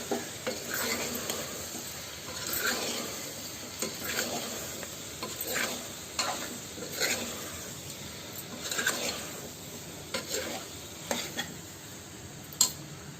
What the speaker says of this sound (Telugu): ఒకసారి దీన్ని బాగా కలుపుకొని